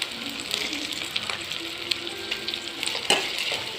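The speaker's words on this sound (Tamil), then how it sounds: "ஒரு பேனில் கொஞ்சமாக ஆயில் விட்டு வெங்காயம் சேர்த்து நல்லா வதக்கிக்கலாம்" Onions sautéing in a little oil in a pan produce a steady close sizzle with crackles, punctuated by stirring scrapes and a sharper clink near the end.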